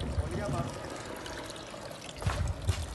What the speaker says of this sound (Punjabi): ਦੇਖੋ ਖੁੱਲ ਗਈ, ਇਹ ਪਾਣੀ ਵੀ ਆਉਣ ਲੱਗ ਪਿਆ ਜੇ